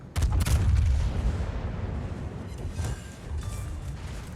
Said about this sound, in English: I detonated this destroyer as well